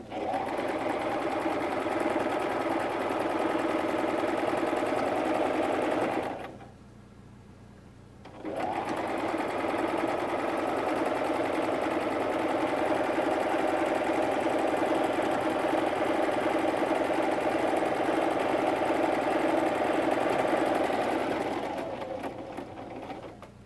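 A sewing machine runs steadily while stitching elastic onto a pair of pants, the fabric stretched slightly as it feeds. The loud, continuous motor hum stops for about two seconds, then resumes and carries on to the end, with no talking.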